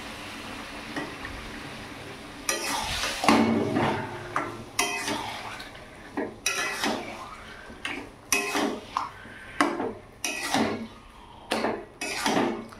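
Taro leaves (kochu saag) go into a pan of spiced oil for a hilsa fish head curry, with repeated clattering and scraping bursts of stirring in an irregular rhythm, close and moderately loud, with no talking.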